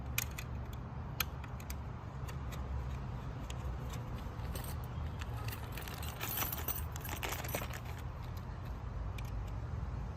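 Metal Allen keys jangle and click in scattered, light, close taps over a low steady background hum while an ELEGOO Phecda 20W laser engraver is being assembled.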